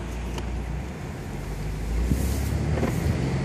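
2014 BMW 4 Series convertible driving with the top down, a steady low engine and road rumble with wind noise that swells slightly partway through.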